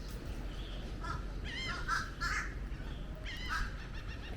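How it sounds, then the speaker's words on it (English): Birds in the trees on Anna Maria Island give a few loud, harsh crow-like caws in short bursts, spaced over several seconds against a low outdoor background. "The birds in the trees."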